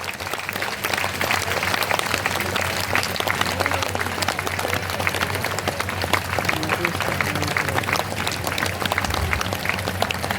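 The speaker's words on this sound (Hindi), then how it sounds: "जोरदार तालियां बजाएं" Sustained applause from a large crowd at a church annual general meeting, dense clapping that stays steady and loud throughout.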